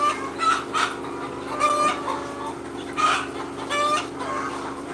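Laying hens cluck in short repeated bursts over a steady background hum, several birds calling close by with no talking.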